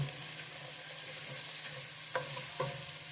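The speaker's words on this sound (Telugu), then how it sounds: "పుదీనా కొత్తిమీర టమాటా ముక్కలు ఇవన్నీ వేసి వీటిని ఇలా బాగా కలపాలన్నమాట" Stirring chopped onion, mint, coriander and tomato pieces in a pan with a soft sizzle underneath, a steady frying hiss broken by two sharp scrapes of the spoon near the end.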